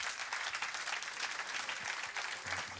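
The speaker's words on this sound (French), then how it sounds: "Applaudissements" A conference audience claps at the close of a day's proceedings, steady, moderately distant applause from a sizeable crowd with no voices over it.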